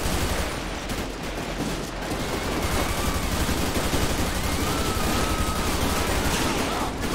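Rapid gunfire in a GTA 5 police shootout, dense crackling bursts of shots rattling continuously over a noisy background, fairly loud throughout.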